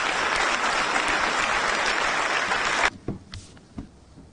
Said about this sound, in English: Please have a round of applause for him.